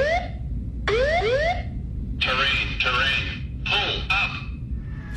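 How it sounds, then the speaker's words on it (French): A synthetic-voice ground proximity alarm in an aircraft cockpit recording from the Germanwings crash: repeated rising whoop tones alternate with loud machine-spoken warnings over a constant low cockpit rumble. "on entend la voix synthétique de l'alarme qui indique qu'on se rapproche du sol."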